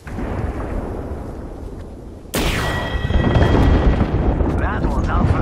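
Artillery strike explosions from the video game Apex Legends: after a stretch of low rumbling, a sudden loud blast erupts, followed by heavy booming impacts and crackling debris that keep the din high to the end.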